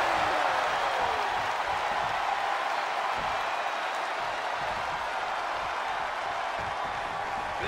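A WWE video game arena crowd applauding and cheering, a steady dense wash of clapping and crowd noise that holds at an even loudness throughout.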